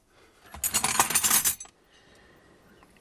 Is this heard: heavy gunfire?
no